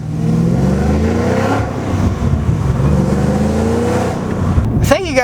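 A 700-horsepower Cadillac CTS-V wagon engine, heard from inside the cabin with the windows down, holds a loud, steady rumble that swells and settles, ending in a sharp rising rev near the close.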